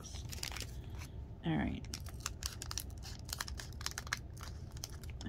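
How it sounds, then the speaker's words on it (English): Scissors snip open a foil trading card booster pack for the Vanguard game, giving one sharp crinkling cut near the mic amid papery rustling, with someone speaking briefly. "I got to cut it open."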